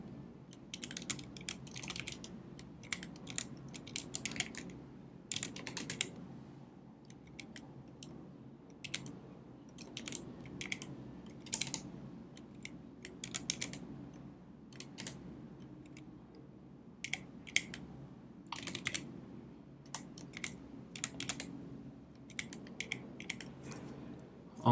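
Steady typing on a computer keyboard while writing code in the Neovim editor, a quiet, continuous patter of close key clicks in quick irregular runs over a low room hum, with no voice.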